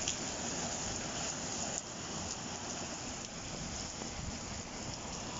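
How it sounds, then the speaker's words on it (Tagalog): Heavy rain pours down steadily in Dubai, a dense, continuous roar of drops hitting surfaces close by, holding an even, unbroken intensity throughout with no voices. "Sobrang lakas ng ulan."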